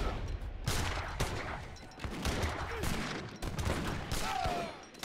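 Volleys from an organ gun in an Age of Empires battle crackle in rapid bursts beneath busy battlefield noise and an excited commentator's voice, with several distinct firing clusters across the stretch.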